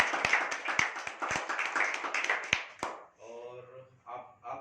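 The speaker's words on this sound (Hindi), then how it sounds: "चलिए राम प्रवेश सर के लिए भी एक बार तालियां हो जाएं।" Applause in a seminar hall: a short run of sharp, uneven hand claps from a small group, close and fairly loud, fading after about three seconds as a voice begins talking.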